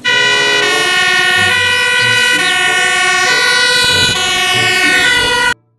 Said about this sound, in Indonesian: truk tangga pemadam kebakaran